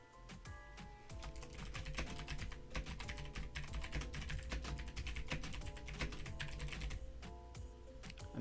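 Rapid typing on a computer keyboard during a stock market livestream, a continuous run of close, crisp key clicks with irregular rhythm over a faint low background hum.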